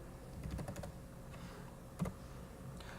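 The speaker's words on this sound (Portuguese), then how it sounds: "e digitar Gunter" Faint, quick clicks come from a computer keyboard as a search term is typed into a web browser, in a short cluster and then a few isolated taps over quiet room noise.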